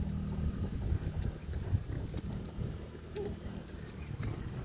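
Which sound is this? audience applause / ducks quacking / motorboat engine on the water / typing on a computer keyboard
motorboat engine on the water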